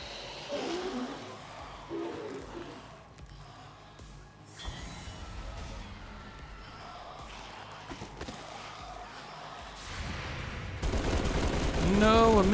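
Gunfire in XCOM 2 erupts in scattered bursts and volleys at moderate loudness, with a heavier rattling barrage near the end, mixed with game effects and occasional voices talking.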